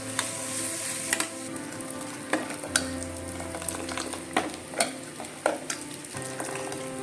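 Ripe plantain (ethappazham) sautéing in a pan, a continuous close frying sizzle punctuated by intermittent stirring scrapes and clinks.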